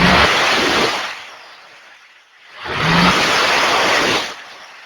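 A 2017 car engine revs up twice in neutral in a repair shop, each loud, rushing rise holding for about two seconds before falling back toward idle, with no one talking.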